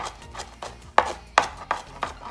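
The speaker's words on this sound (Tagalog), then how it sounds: "So, chop lang natin siya." A knife chops fresh basil on a cutting board for a Chinese-style tomato basil omelette, five or six distinct, fairly crisp strokes at an uneven pace, close and alone.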